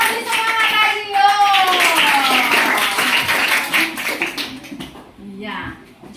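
Classroom applause for a student named Vanessa: children clapping together in a lively, sustained patter, with young voices chattering and calling out over it before it thins out near the end.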